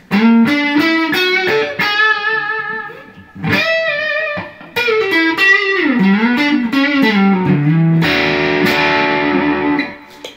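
Electric guitar on the neck pickup of a prewired SSS pickguard with dual-rail pickups, warm, rounded tone playing a melodic phrase of sustained notes and bends, lightly effected, with brief pauses between lines.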